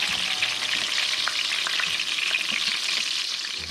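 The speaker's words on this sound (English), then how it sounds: "So I'm going to fry them all, or pan sear them all, and then bake them all." Pieces of wild duck sear in a hot frying pan, giving a steady, dense sizzle and crackle with no voices.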